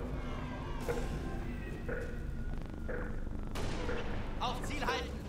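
Scattered gunshots in the video game Halo: Reach crack through a dense, noisy mix, a few distinct shots spaced apart while a voice talks underneath.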